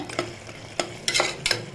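Light sizzling of curry leaves sautéing in a hot pan with a few scraping stirs of a spoon, short and close, no voices.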